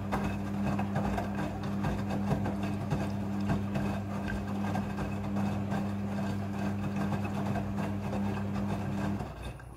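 A front-load washing machine filling with water for a rinse cycle hums steadily with a low motor drone and faint rushing water, continuous until it cuts off near the end.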